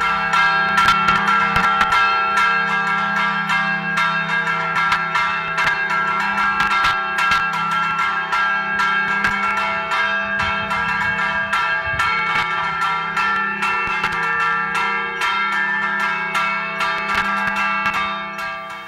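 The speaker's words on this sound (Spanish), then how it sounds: "en todas las iglesias de la diócesis resuene este repique de campanas" Church bells in a diocese ring out a full festive peal, with rapid overlapping loud strikes sustained throughout and no voices over them.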